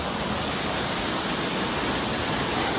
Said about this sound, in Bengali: এই যে ঝর্ণার কাছাকাছি আমরা খুবই।